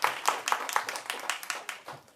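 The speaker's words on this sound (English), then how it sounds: "No clapping." An audience clapping at a city council meeting: a short burst of irregular, moderately loud claps from a small group, tapering off over about two seconds.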